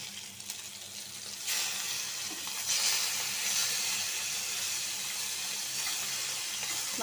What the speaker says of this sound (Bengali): এই চুলায় আমি মাছটা উল্টায় নেই